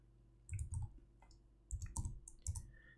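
Computer mouse clicks while working in Adobe Animate, several crisp close-up clicks in pairs and short clusters, separated by quiet gaps.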